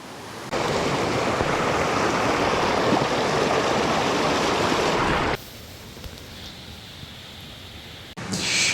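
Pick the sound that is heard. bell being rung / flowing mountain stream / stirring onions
flowing mountain stream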